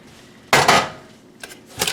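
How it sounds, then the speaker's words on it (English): Chilled pumpkin pecan fudge pried loose from its pan, giving a loud scraping clatter of metal followed by two shorter knocks and scrapes, close by with no talking. "Let's take our fudge out of the pan."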